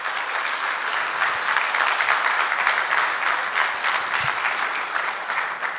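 Steady applause from a large audience, loud and continuous throughout, with no voices rising above the clapping.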